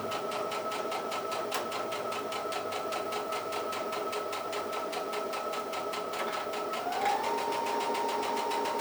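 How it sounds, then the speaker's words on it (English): A sewing machine with a circular attachment running a straight stitch while the fabric turns on a pin, a steady close rapid needle rhythm with a faint motor hum that shifts slightly in pitch near the end. "now the fabric is actually going to sew around in a circle"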